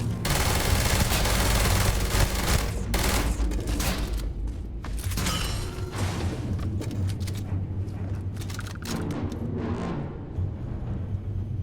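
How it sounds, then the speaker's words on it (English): An automatic weapon in the space game Starfield fires sustained, rapid bursts that stay loud and dense throughout, with brief mechanical clatter between volleys. "It's an automatic. This thing's gonna blow through ammo like nobody's business, though."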